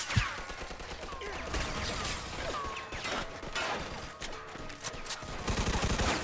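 Rapid, dense gunfire bursts in Mafia 2: Definitive Edition, with overlapping shots and impacts filling the whole stretch at a steady, loud level.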